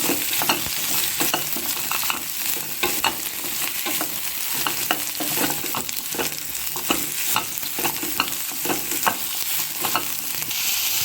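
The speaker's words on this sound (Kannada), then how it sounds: "ಅದನ್ನು ಎಣ್ಣೆಯಲ್ಲಿ ಚೆನ್ನಾಗಿ ಫ್ರೈ ಮಾಡ್ಕೋಬೇಕಾಗುತ್ತೆ" Pieces of bottle gourd fry in hot oil with a constant bright sizzle, broken by frequent sharp stirring taps and scrapes against the pan, close and steady throughout, with no speech.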